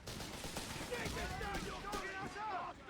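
Enemy gunfire crackles steadily through a battle in Company of Heroes 3, a dense, continuous rattle of rifle and machine-gun shots under voices shouting orders.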